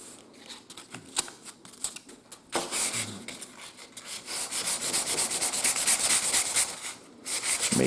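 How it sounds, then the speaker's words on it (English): Sandpaper worked by hand over small wooden steam engine parts: close, dry rubbing strokes, first short scattered scratches, then a denser continuous rasping with brief pauses, no voices. "So we'll just sand our parts."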